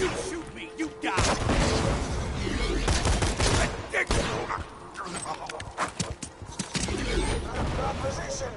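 Rapid bursts of gunfire in Borderlands 2 crackle almost without pause across the clip, loud and dense, with a few brief lulls and a voice speaking over the shooting.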